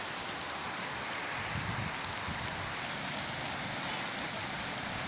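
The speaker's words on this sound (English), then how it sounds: "It's starting to throw it down the rain now." Heavy rain pours steadily as a dense, continuous hiss of drops on surfaces, filling the whole clip at an even, close level with no voices.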